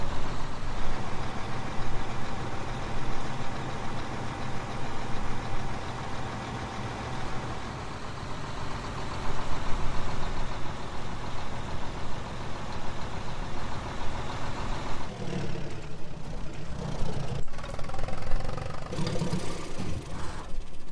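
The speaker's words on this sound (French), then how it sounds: "Comment fait du bruit votre tracteur, monsieur?" A tractor engine idles and rumbles steadily in a roleplay video game, a continuous mid-pitched diesel drone that stays fairly close throughout, with a few brief clunks and shifts near the end.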